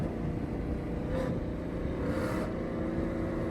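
A supercharged 2024 Mustang GT with a Whipple kit launches from a third-gear start, its engine a loud, steady broadband roar held close for the whole stretch with no talk over it.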